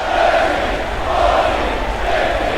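A WWE 2K video game wrestling crowd chants a count during a stalling suplex, its roar swelling rhythmically about once per second in a dense arena din.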